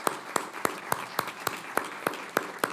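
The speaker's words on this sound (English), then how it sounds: "Please join me in giving our panelists a warm round of applause" Applause for a panel discussion at an event on plastics: steady, evenly spaced claps, fairly quiet and somewhat distant, with no talking over them.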